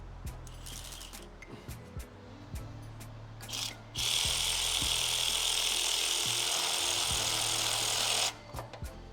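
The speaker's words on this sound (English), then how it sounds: "Okay, so just taking the back bolt off." Ratchet wrench on the rear bolt of a power steering pump on a 2015 GMC Acadia: scattered clicks and clanks, then a steady loud whirring of about four seconds as the bolt spins out, with a few clicks after.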